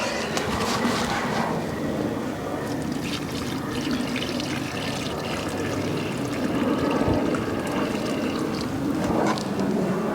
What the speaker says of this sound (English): So got a little bit of water here to get it going.